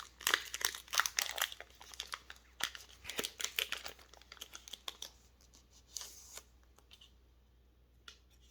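A crinkly plastic wrapper on a Pokémon card micro pack is picked at, crumpled and torn open: a rapid, irregular burst of sharp crackles that thins into scattered rustles, close and moderately loud.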